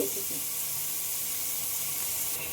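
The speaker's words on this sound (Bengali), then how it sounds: "পেঁয়াজগুলোকে এখন আমি একটু ভেজে নেবো" Onions frying in a pan, a steady close sizzle and hiss that holds evenly throughout with no talk over it.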